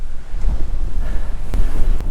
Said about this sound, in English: when you hear the wind go into your ears